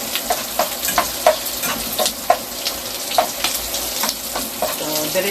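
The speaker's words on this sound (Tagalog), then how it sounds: "Ipakulay brown muna natin ang ating bawang." Garlic frying in a pan for pineapple adobo, a steady crackling sizzle with repeated light stirring clicks, close and fairly loud, no talk.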